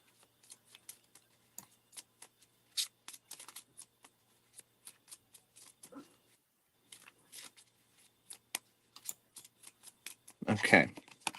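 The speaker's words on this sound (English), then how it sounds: "I'm still pulling cards for you, so just a moment." Tarot cards are shuffled and drawn from the deck: a run of soft, scattered flicks and snaps, mostly quiet, ending in a louder, denser riffle near the end.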